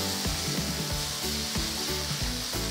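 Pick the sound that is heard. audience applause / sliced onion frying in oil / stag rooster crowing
sliced onion frying in oil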